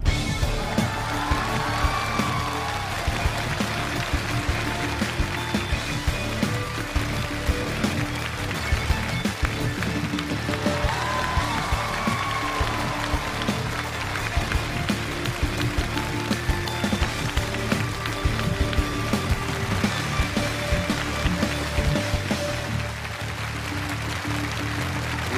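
A studio audience on a Chinese TV challenge show applauds as 69-year-old amputee Everest climber Xia Boyu comes on stage. The clapping is dense and sustained, with scattered cheers and background music, for about twenty-five seconds.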